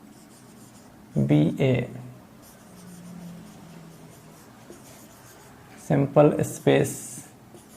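Writing on a board during a probability lecture on random variables: faint, steady scratching fills the gap between two bursts of a lecturer's nearby speech.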